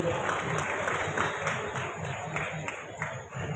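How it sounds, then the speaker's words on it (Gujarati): A large crowd claps at a free mass wedding ceremony for all communities, with a chief minister present. The clapping is sustained and even, without a break, and some murmured voices sit beneath it. "ધન્યવાદ ખૂબ ખૂબ આભાર તાળીઓથી વધાવી લઈએ"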